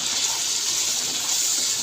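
Water poured into a pan of frying beef for tinday gosht gives a loud, steady hiss and gushing sizzle that runs unbroken from start to finish.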